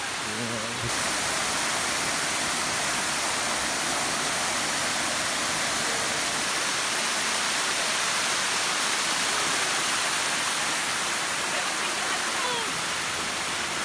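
Encanto Falls in Camarines Sur, Philippines, roars close and loud, a constant dense rush of falling water that fills the whole stretch without pause.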